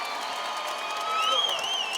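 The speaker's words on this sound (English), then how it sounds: "let's have a round of applause for these 2 middleweight warriors" A bare-knuckle boxing arena crowd at a BKFC event applauds and cheers the two middleweight fighters, Thiago Alves and Uly Diaz, a continuous distant wash of clapping that swells slightly near the end, with whoops and voices mixed in.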